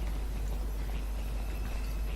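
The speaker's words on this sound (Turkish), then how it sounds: "Domuzun sesi geliyor." A large pig runs in the horror video game DreadOut, its feet pounding in a fast, continuous clopping rhythm that sounds loud and close over a dense, noisy backdrop, without speech.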